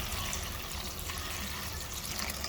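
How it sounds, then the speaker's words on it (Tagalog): Water poured into a pot of pork adobo with potatoes, a steady broad splashing stream running continuously and fairly loud, with no one talking. "Lagyan na po natin ng tubig"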